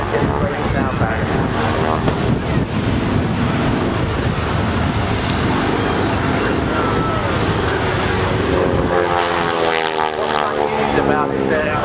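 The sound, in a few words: North American T-6G Texan propeller aircraft engine at high power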